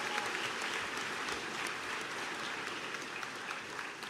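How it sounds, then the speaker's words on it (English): A large audience at a spring graduation ceremony claps in steady, dense applause that holds at an even level throughout, with no voices standing out. "let's give them a round of applause"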